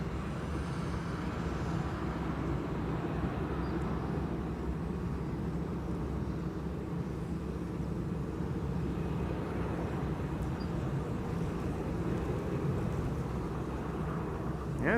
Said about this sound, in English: Next up, EasyJet, flight 28674, A319, arrived from London Gatwick.